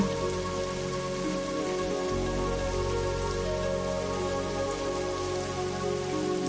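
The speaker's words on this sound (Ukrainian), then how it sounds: "доки іде дощ і горить вогонь" Steady rain patters continuously on a surface, an even wash of drops with no voices.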